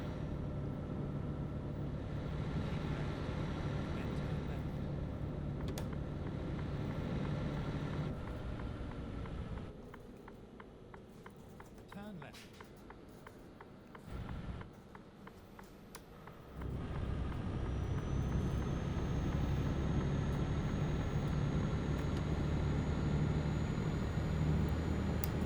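Truck engine in the Euro Truck Simulator game held at high revs in 14th gear, a steady loud drone that drops quieter and thinner for several seconds midway, then returns to its full roar.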